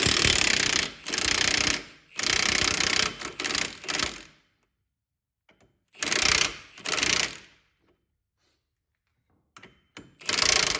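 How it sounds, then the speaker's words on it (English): A pneumatic impact wrench hammers off a 30 mm front wheel hub nut on a Chevrolet HHR: several loud, close, rattling bursts of a second or so each, separated by silent pauses. "use some pneumatic gun like an impact or a Milwaukee 1/2-inch to remove that"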